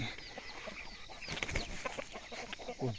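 Farmyard chickens cluck in short scattered bursts during an early-morning walk among the flock, fairly close, with bird-like chirps over a soft outdoor background.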